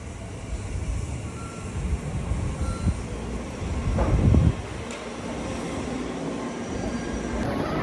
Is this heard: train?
yes